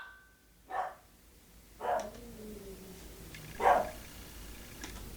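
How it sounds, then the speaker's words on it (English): A dog barking three times at a distance, spaced about a second apart and moderately faint against low background noise, with no talking. "Shut the damn dog up!"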